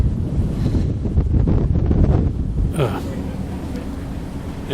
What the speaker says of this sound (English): Oh, it's very windy.